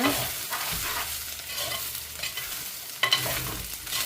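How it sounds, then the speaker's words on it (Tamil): Soya meat frying with onions in a pan, stirred with a spoon, giving steady sizzling broken by scraping strokes and a sharper clatter near the end, heard up close with no talking. "இப்போ நாங்கள் இந்த சோயா மீட்டை இதில் போட்டுக்கொள்ளுவோம் போட்டுட்டு நல்லா மிக்ஸ் பண்ணிக்கிறோங்க"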